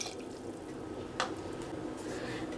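Two cups of water go into a pressure cooker holding bottle gourd, roasted peanuts and cumin for soup, a brief close splash and trickle with one brighter splash midway, no talking.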